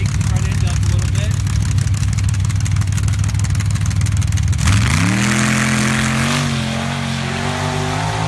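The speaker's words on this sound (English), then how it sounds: "MCC Pipeline blue Jeep here on the near side" Blue Jeep TJ drag racing at a strip, engine loud and close as it roars at steady high revs, then rises sharply into a climbing rev with clear harmonic sweeps near the end, continuous throughout.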